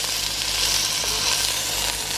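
Seasoned rolled lamb browning on the sauté setting of a pressure cooker, giving a continuous dense close sizzle with faint crackles over a low steady hum.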